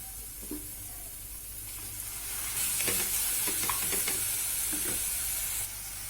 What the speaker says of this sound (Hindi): अब इसमें हम टमाटर ऐड करेंगे।